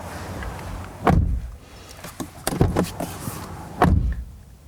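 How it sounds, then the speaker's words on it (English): A 2019 Lexus IS 350 F-Sport car door shuts with a solid thump, followed by a few lighter knocks and clicks, then a second firm door closing; close by, no talking. "versus this sound when you shut the door"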